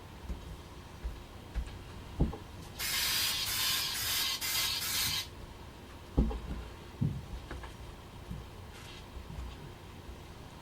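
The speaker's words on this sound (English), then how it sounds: "I just use some spray adhesive" A sustained hiss of spray adhesive from an aerosol can, lasting a couple of seconds, with scattered light knocks and handling sounds before and after.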